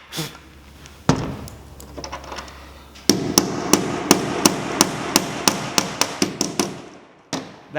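A hammer crushes a rivet holding a duck boat LED light, a rapid series of about a dozen sharp close metallic blows in steady rhythm after some scraping and handling noise.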